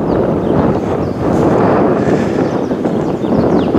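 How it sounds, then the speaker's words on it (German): Strong, gusting wind blows at Kap Arkona on the Baltic coast of Rügen, a loud, continuous roar buffeting the microphone with slight surges in intensity and no voices. "der Wind ist echt heftig heute"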